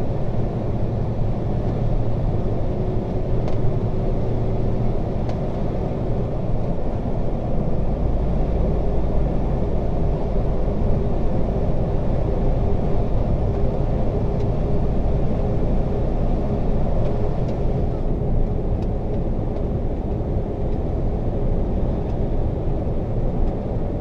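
Old logging truck cruising at about 56 miles an hour on a highway, a steady, loud cab rumble and engine drone with road noise, unbroken throughout.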